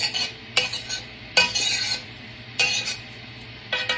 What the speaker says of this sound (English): I'm gonna stir this, and we're gonna bring it up to a boil